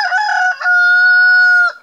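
A rooster crows once, loud and close, a long drawn-out call held steady before breaking off at the end.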